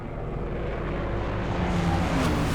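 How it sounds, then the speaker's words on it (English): Engines of Japanese bombers from the carrier Hiryu closing in on the USS Yorktown at Midway, a steady loud droning roar that swells slightly as it nears, with no voices. "At mid-afternoon, a second wave of bombers arrives from the Hiryu."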